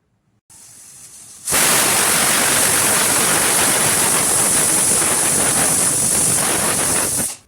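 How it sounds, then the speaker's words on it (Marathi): A pressure cooker cooking chandan batwa greens lets out a loud, steady hissing shriek of steam that rises sharply and holds for several seconds. "आता आपण ही भाजी 3 ते 4 शिट्ट्या होईपर्यंत शिजवून घेऊया."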